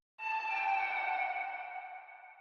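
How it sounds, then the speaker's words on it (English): One synth tone from the Aperture kit in FL Studio sounds alone: a clean, bell-like sustained note with bright overtones that starts suddenly and slowly fades under reverb. "The next thing I added was this synth sound from the Aperture kit,"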